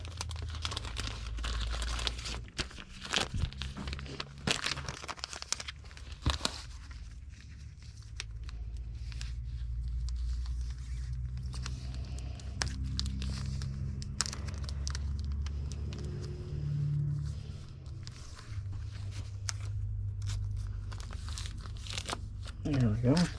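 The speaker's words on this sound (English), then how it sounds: "We will put those in another bag" Comic books, Robotech issues, being slid into a plastic bag, with crinkling and rustling plastic in irregular bursts, close by, mixed with someone talking and low background hum.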